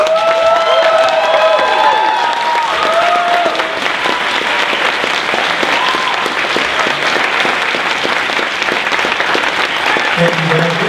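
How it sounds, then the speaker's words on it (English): Graduates at a 2018 graduation ceremony give sustained, loud applause for faculty and staff, a steady dense roar of clapping from a large crowd with some cheering mixed in. "I'd like to ask our graduates to stand and applaud our faculty and staff for all they've done."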